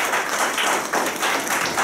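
An audience applauds a village chief being called up at a book dedication ceremony, a brief burst of thick, continuous clapping from many people, close and fairly loud.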